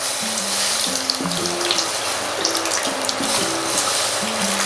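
Water is poured into a pan of mirchi and eggplant masala curry, a continuous, steady splashing gush close by, with no one talking.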